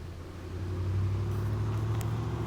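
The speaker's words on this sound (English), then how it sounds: "Now we'll get a red 4-wheel drive truck going down the road" A red four-wheel drive truck drives along a road by Little River Canyon, its low engine rumble steady and close, swelling slightly as it passes, with no one talking.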